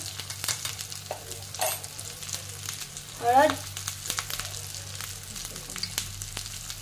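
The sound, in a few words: masala paste roasting in a pan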